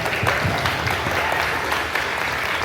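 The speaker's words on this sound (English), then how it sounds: "one more round of applause for the Flutterbugs" An audience at a St Alphonsus band event gives the Flutterbugs a brief, steady round of applause, dense clapping heard alone for a couple of seconds.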